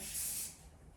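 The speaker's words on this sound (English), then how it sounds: "I'll give it a little spray, and that will help her." A single short burst of hairspray is misted onto freshly styled curled hair, a close, bright hiss lasting about half a second before fading into quiet.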